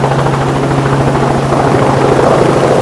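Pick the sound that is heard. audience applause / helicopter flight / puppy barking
helicopter flight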